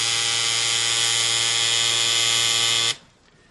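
A tattoo machine gives off a steady, close electric buzz with a strong hum for about three seconds, then cuts off sharply, leaving faint room noise.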